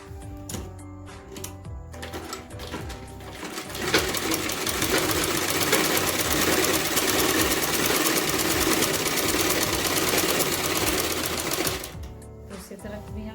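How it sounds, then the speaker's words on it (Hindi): A sewing machine stitches a double seam on a salwar, a fast steady mechanical rattle running for several seconds between slower starts and stops, close up with a voice talking around it. "इस पर हम आसन पर डबल सिलाई लगाएंगे इस तरह।"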